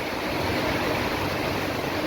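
Heavy midday rain with floodwater pooling on a veranda: a dense, continuous broadband hiss of rainfall and running water, steady and loud for the whole stretch with no voices.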